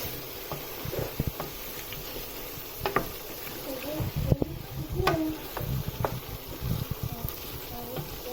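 A spoon stirs prawn and potato curry salan in a pan over low heat, with scattered scrapes and clinks against the pan over a soft continuous sizzle and hum.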